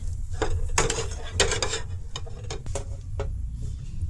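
A spoon scraping and clanking in a pan as palm jaggery and semolina dough is stirred, several sharp knocks over a low steady hum.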